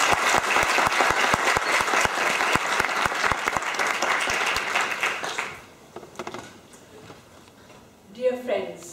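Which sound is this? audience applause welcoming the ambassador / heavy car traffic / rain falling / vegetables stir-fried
audience applause welcoming the ambassador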